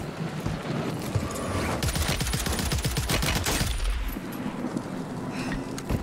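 Rapid automatic gunfire crackles through a Warzone match on Rebirth Island, dense bursts of rounds rolling for several seconds before thinning out, loud and close.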